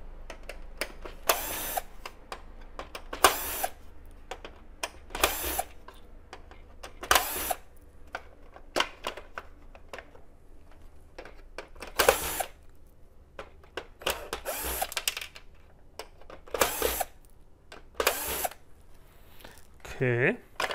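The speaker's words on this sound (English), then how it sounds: "Now we have to open these screws to disengage the display." Screws being undone to free the display of a Technics SX-KN6000 electronic keyboard, heard as short bursts of ratcheting and squeaking at irregular intervals, close and fairly quiet, with a faint hum beneath.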